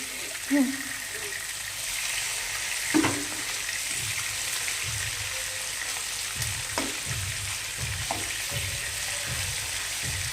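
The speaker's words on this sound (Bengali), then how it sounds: "মাছটা উল্টে নিয়েছি, এখন লাল হলে মাছটাকে আমি উঠিয়ে নেব" Pieces of katla fish frying in a pan until reddened, a steady sizzling hiss throughout with a few louder clatters and stirring knocks scattered across it; no talk.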